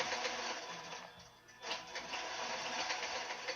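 A QBOT V3 quilting robot stitching runs with a fast, even mechanical whir and rapid needle chatter, fairly soft and continuous with a brief dip partway through.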